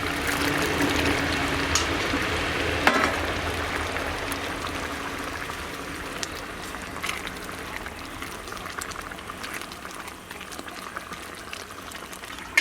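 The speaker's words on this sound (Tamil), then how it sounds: "அப்படியே ஒரு நிமிஷம் நல்லா கொதிக்கட்டும்." Thick curry with vadai bubbles and simmers in a pot, a soft continuous gurgle with occasional pops, gradually settling a little quieter.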